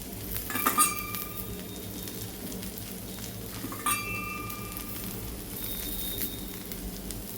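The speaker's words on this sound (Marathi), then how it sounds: "आता आपण याला साईडने असं तेल सोडूया मध्येही जरास सोडायचं आहे" Oil poured around a rice ghavan hisses gently in the pan, a soft steady sizzle broken by a couple of sharp metallic clinks from a utensil.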